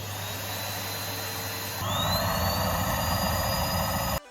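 A Henry Hoover vacuum cleaner whose motor flutters from a hose blockage. A steady, loud motor whine shifts partway through into a rougher, louder, pulsing roar with a rising pitch, then cuts off abruptly. No voices.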